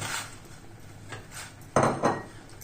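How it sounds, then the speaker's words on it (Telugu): Chopped tomatoes and onions tipped into a cooking pan for a pesaripappu dish, a few clattering knocks and scrapes of utensil against the pan, with two sharper clanks near the end. "ఈ టమాటాలు ఉల్లిపాయలు 2 వేస్తున్నాను"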